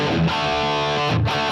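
Electric guitar through a Line 6 Helix distortion block, a sustained, saturated chord ringing loud and alone, with a brief re-strike near the end.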